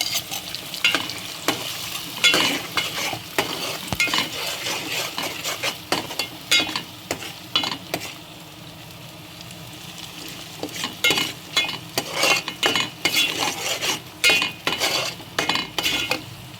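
Ground masala paste for mackerel curry being stirred and fried in a pan, with repeated scraping strokes of a spoon against metal over a steady sizzle, busy at first, quieter in the middle, then vigorous again.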